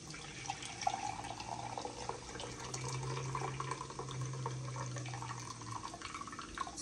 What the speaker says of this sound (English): The first thing I'm going to add is our stock from the shrimp. So we're going to go like this. And we're just going to pour it.